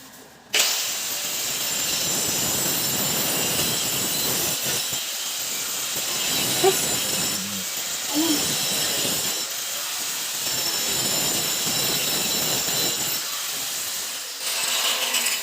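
Power machine cutting a plastic drainage pipe for a long trap fitting, a steady loud whining grind running almost the whole time after a sudden start, with brief thuds midway and a short dip near the end.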